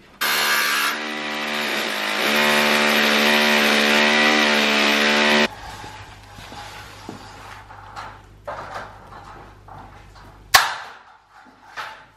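A power tool cuts metal during DIY chimney breast and fireplace work in a new-build UK house, a loud, sustained whining buzz for about five seconds, then it stops and quieter clatter and knocks follow, ending in one sharp bang.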